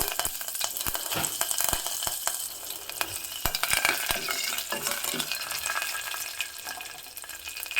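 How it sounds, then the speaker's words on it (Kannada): Dried red chili and curry leaves sizzling in hot oil for baingan bharta, a close crackling sizzle with sharp pops and stirring scrapes, busy and fairly even throughout. "ಖಾರಕ್ಕೆ ಒಂದು ಹೊಸ ಒಣ ಹಸಿ ಮೆಣಸನ್ನು ಹಾಕ್ತಾ ಇದ್ದೀನಿ ಮತ್ತು ಕರಿಬೇವಿನ ಸೊಪ್ಪು"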